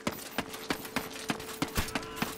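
Footsteps in the medieval combat game Chivalry: Medieval Warfare, a steady run of about eight evenly spaced, crisp footfalls over low background game noise.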